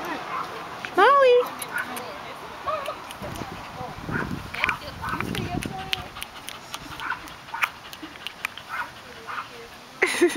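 A dog whimpers and gives a few high yips near the microphone outdoors in a yard, while people talk over it.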